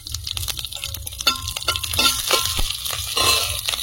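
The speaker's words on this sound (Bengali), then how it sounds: "আজকে শুকনো লঙ্কা জিরে ফোড়ন দিয়ে, গোটা জিরে, চেরা কাঁচা লঙ্কা" Dry red chillies, whole cumin and slit green chillies sizzle and crackle in hot oil as a tempering, a close, steady frying hiss with sharp pops and stirring scrapes.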